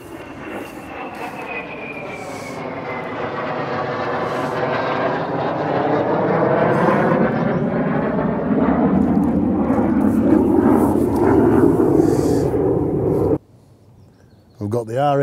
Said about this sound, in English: We've got the RAF doing manoeuvres as well, so we're getting a bit of sound from the outside.